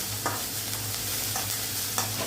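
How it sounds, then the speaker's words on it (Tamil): Onions frying in a pan for a three-ingredient chutney, a steady low sizzle with soft stirring scrapes recurring throughout, close and moderately loud with no talking. "வெங்காயம் தான் வதங்கும்"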